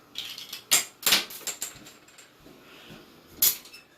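A toilet tank lever nut being unscrewed by hand, producing close, small plastic and metal clicks and ratcheting ticks in a few short bursts, with quiet handling sounds between.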